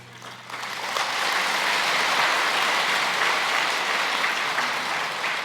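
Steady, dense applause from an audience at a Buddhist monk's Dharma talk swells within the first second and holds at full strength to the end, without talk over it.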